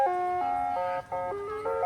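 A Dodge Ram ice cream truck's chiming jingle plays a bright, stepping melody of clear repeated notes, steady and close with no voices over it.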